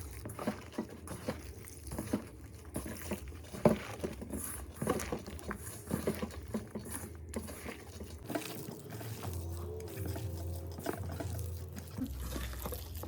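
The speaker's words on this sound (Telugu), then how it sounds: "దీంట్లో కొద్దిగా వాటర్ పోసుకోవాలి" Water is poured into a Cabbage Manchurian mixture of cabbage, corn flour and chat masala, giving soft, close liquid pattering and wet squelches as it is worked in by hand, quiet and irregular with small clicks throughout.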